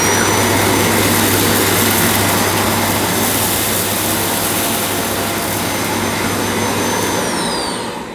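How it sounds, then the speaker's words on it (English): A Dyson Cinetic Big Ball Animal vacuum cleaner runs along the edge of a floor, giving a loud, steady, rushing whine that holds for several seconds before easing off at the end. "And now cleaning up to the edge on my right hand side of the cleaner."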